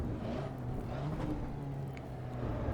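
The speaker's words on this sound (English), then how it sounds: "And listen to that. Even the turbo noises." A racing car engine with a turbo in the Assetto Corsa EVO video game, a steady droning rumble that holds at a fairly constant pitch with a faint whirring layer above it.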